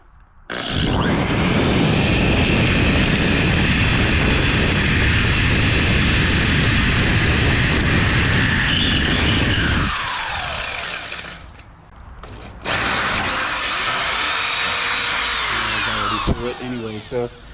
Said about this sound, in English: I drilled it through this hole